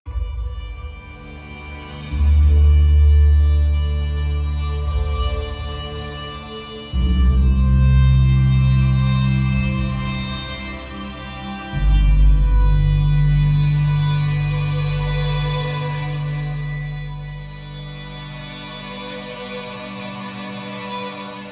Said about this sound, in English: the sul ponticello sounds absolutely gorgeous